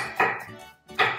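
Two sharp knife chops through garlic on a cutting board, close and distinct, about 0.8 seconds apart with quiet gaps between.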